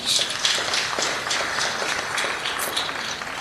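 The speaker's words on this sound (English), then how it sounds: "you should give yourself a round of applause for that" An audience at a public excellence award launch claps in a dense, steady burst of applause that continues without pause.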